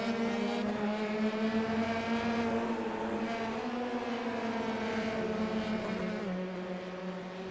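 Race cars in a sim racing video game roar at a steady high pitch through a lap near the Andretti hairpin, a red and blue car following in the slipstream. The engine note drifts slightly and stays loud and continuous, with no talk.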